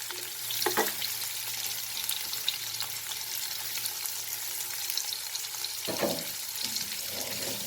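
Two large chopped onions fry in a pan with a broad, steady sizzle, and a couple of louder spoon-stirring bursts rise over the continuous hiss.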